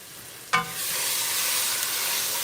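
Seitan made from vital wheat gluten fries in a pan, a sharp clatter followed by a steady, broad sizzle that holds evenly to the end.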